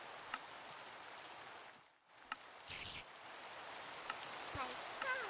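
Rain in the video game Minecraft, a steady soft hiss of falling rain throughout, with a brief dip in the middle and a few faint clicks and short noise bursts over it.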